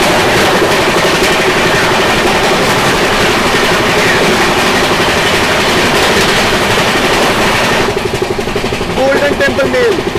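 The Golden Temple Mail roars past on the adjacent track at a crossing, a loud continuous rush of wheels and carriages heard close from a moving train, with a voice speaking near the end as it fades.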